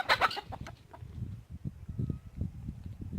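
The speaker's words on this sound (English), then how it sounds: "Prairie got too close to a chicken." Chickens cluck near a farmyard, a burst of loud squawking at the start giving way to a run of low, soft clucks at an even pace.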